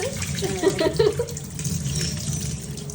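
Water running from a tap during a goldfish tank water change, a steady close splashing flow with a brief gurgle near the start, no talking.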